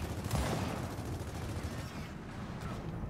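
Muffled, quiet bursts of gunfire in Gears of War 4 versus mode, a steady wash of rapid shots over about three seconds with no talking.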